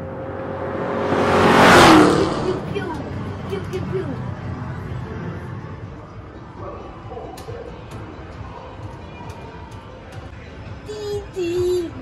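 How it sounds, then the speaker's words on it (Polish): A toy car drives through a children's play game, its engine rising to a loud revving whoosh early on and then fading to a softer hum and whir under a background of voices and game music. "Auto."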